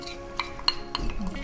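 Jesmonite paste stirred in a mixing container to work out lumps, giving a few sharp utensil clinks and scrapes over a low steady background, close and moderately quiet.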